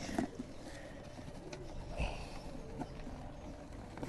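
A few low, faint coos come from pigeons, among them a Kaldom crossed with a local Giribaz, against quiet background hiss.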